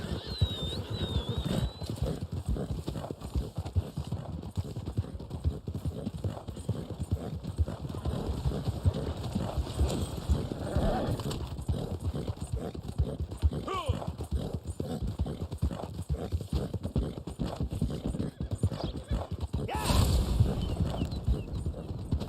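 Horse hooves clip-clop in a steady trotting rhythm through Red Dead Online gameplay, continuous and moderately loud for the whole stretch, with game ambience and a brief whinny-like sound along the way.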